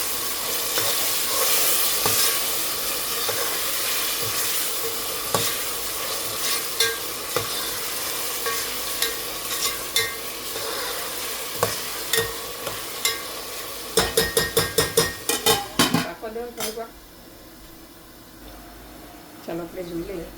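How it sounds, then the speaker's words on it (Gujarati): Chopped tomatoes frying in biryani masala in a pan, a continuous sizzle under repeated spoon scrapes and knocks that cluster toward the end, with a voice talking over it. "હવે એડ કરું છું ટમેટા।"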